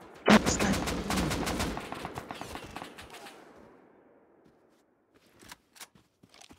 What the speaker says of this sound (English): I just got like triple headshot.